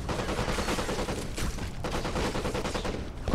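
Dense bursts of rapid gunfire in the first-person shooter Black crackle in sustained volleys, with short pauses between the barrages and no voices.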